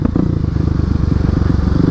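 A Kawasaki KLX300 motorcycle engine runs close and loud with a rapid, steady thumping putter that pulses evenly throughout.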